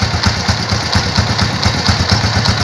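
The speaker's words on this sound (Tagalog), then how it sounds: "yung tunog nung bagong kabit natin na primary clutch" Motorcycle engine idling with a newly fitted Yamakoto primary clutch, a steady close, loud mechanical chug with a rapid even pulse and faint rattly ticking throughout, no talking.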